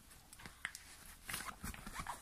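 Dogs playing together outdoors on a sunny day, with close, scattered whimpers, yelps and scuffling sounds coming in irregular bursts, and no talking.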